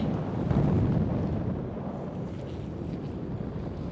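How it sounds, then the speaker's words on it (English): Strong wind blowing outdoors at the water during fishing, a steady loud roaring rumble buffeting the microphone without a break. "And that wind's getting strong."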